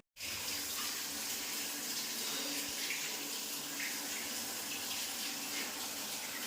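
Hotel room water tap running steadily for hand washing, a continuous close hiss of flowing water after an abrupt start, with no talk over it.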